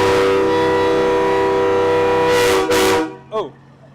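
Loud, sustained truck horns blare at a Christmas parade in Greenville, Texas, a harmonic chord holding for nearly three seconds before cutting off, followed by a short voice.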